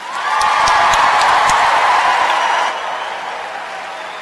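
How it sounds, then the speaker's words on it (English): Loud, dense applause from a large university welcome-event crowd, with a few sharp whoops; the clapping holds steady for about two and a half seconds, then drops to a quieter, thinning patter. "Please give him a huge round of applause"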